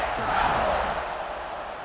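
Stadium crowd in the College Football 26 video game roars before a kickoff in a Georgia State vs. Ole Miss primetime game, a loud, sustained wash of cheering that swells early and eases slightly toward the end.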